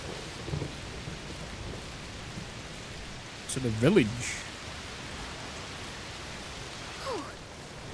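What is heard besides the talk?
rain and thunder in A Plague Tale: Requiem video game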